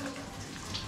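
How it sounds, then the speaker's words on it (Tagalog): Water runs from a tap at a campsite in a steady, close, continuous splashing stream for about a second, with no talk over it. "May running water."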